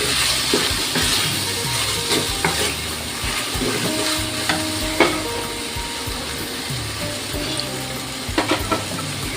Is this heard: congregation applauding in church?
no